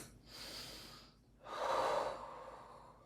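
Slow, deep breaths during a yoga pose: a soft inhale followed by a longer, stronger exhale, close and quiet with no talking.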